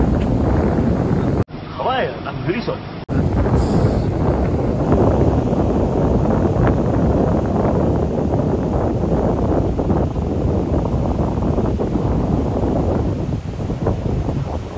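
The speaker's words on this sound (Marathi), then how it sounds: "वारा खूप आहेच" Strong wind buffets the microphone at Devgad beach, a loud, steady roar filling the whole stretch after a brief dip near the start, with faint surf or water underneath.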